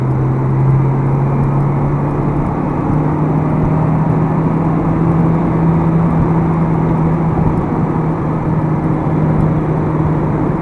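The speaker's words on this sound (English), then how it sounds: "So we'll gear down a couple gears and we'll speed up." A 2002 Acura RSX Type S pulls hard after a downshift, a steady loud engine drone with a rising tonal whine running throughout, heard from inside the car with no talk.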